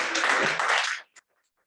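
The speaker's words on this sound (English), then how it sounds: "can we give a round of applause" A brief burst of audience applause from a crowd at a product showcase event, dense clapping for about a second that cuts off abruptly, followed by one faint stray clap.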